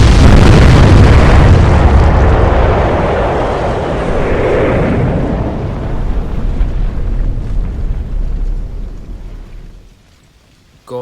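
A massive underwater submarine explosion booms loudly with deep rumbling that rolls on and slowly fades, ending in near silence.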